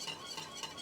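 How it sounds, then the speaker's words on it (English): Mac and cheese sauce being stirred gives a quiet, short, wet swishing scrape with a couple of faint utensil taps. "And we mix."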